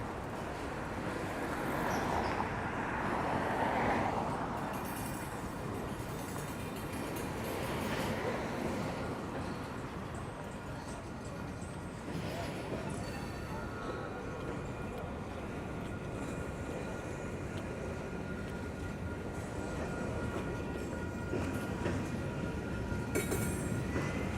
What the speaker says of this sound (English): Holy smokes, this train is so loud.